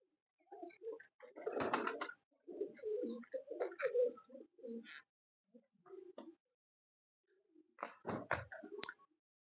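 Pigeons of a Tiger breed coo in soft, throaty phrases with short pauses between, heard close and fairly quiet in a pigeon-keeping setting.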